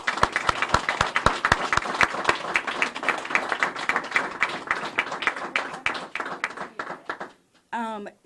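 A crowd at a Rhode Island officials' event on an immigrant driving-privileges bill applauds steadily for several seconds, the dense clapping fading out before a voice briefly begins speaking.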